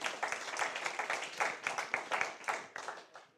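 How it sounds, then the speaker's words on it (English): Short burst of audience clapping for a school debating team at a debate semi-final, uneven hand claps rising and falling in waves, moderately loud and without talk. "Please, a round of applause for our debating team."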